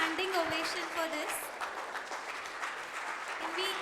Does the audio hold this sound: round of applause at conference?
yes